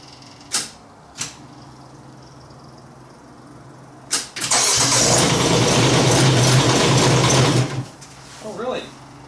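A diesel engine, glowed before starting, clicks a few times and then cranks and catches into a loud, steady idle that runs for about three seconds before cutting off, with voices afterward.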